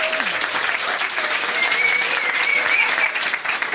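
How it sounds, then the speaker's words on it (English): Steady applause from a pub trivia quiz audience on the Isle of Ely, a sustained, dense clapping that stays fairly loud and even throughout with no talk over it. "give them a round of applause for trying anyway"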